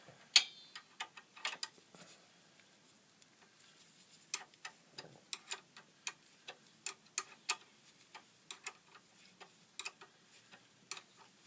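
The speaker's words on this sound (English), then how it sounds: "we're just going to wrench it out" A wrench loosens a bolt on a 2006 Honda Civic during an A/C condenser replacement, giving a run of sharp, quiet metallic clicks in uneven bursts, close by, with no talking.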